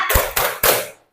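Classroom group clapping a short rhythmic 'focus' clap pattern during a school lesson, three sharp bursts of many hands in quick succession, close and loud, with no talking.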